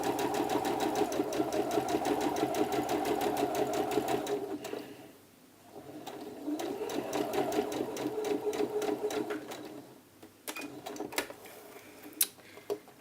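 Close, fast rhythmic stitching from a sewing machine running a gathering stitch on a poplin blouse back piece, with a short pause midway before it resumes and trails off into scattered clicks.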